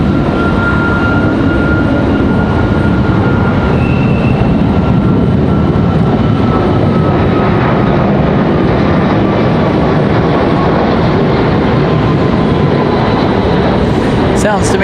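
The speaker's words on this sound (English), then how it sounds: "Sounds to me like we just had a go around that Max 9 going around there." A Boeing 737 Max 9 goes around overhead at Raleigh-Durham airport, its loud continuous jet engine roar filling the whole stretch with a faint whining tone, while someone talks over it.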